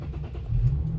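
V6 engine of an Infiniti G37 car starting up, a loud close low rumble that swells as it catches and settles, with no one talking.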